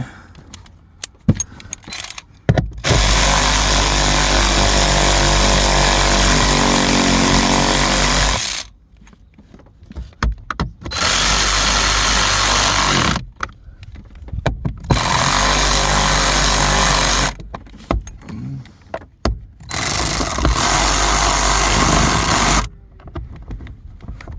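Bursts of a loud power tool whir in four long runs of several seconds each, separated by short pauses with clinks and handling noise, during a blower motor replacement on a 2011 Toyota Sequoia.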